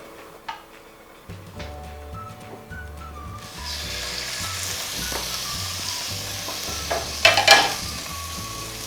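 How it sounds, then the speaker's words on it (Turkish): Salmon sizzling in a frying pan, a steady hiss building after a few soft clinks, with a brief louder crackle near the end. "Isındığı zaman somon balığını orada ızgara edeceğim."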